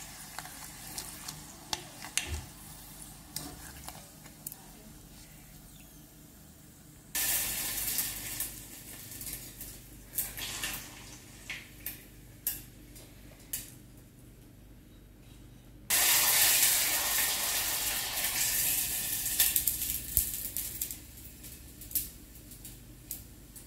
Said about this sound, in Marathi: अशी आम्ही आता पापड तळणार आहे आणि खाणार आहे